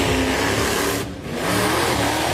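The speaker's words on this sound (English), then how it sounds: "this is the truck going over the crowd" A truck engine roars as the vehicle drives over a crowd, a loud, continuous rumble that dips briefly in the middle before surging back with revving intensity.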